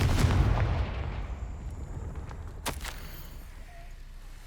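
A Confringo fire spell in the video game Hogwarts Legacy lands as a loud booming blast that fades into a low rumble, followed by a faint sharp crack.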